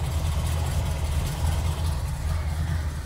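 A Corvette engine idles while its distributor is turned to adjust ignition timing, a steady low rumbling idle with slight shifts in engine speed, fairly close and with no speech.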